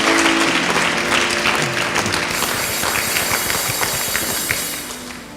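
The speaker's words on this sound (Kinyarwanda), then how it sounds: "Amashyi menshi cyane." A church congregation bursts into loud, dense applause that carries on steadily before tapering off near the end.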